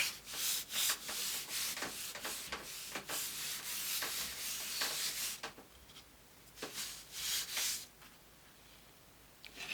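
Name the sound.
rubbing wood from the back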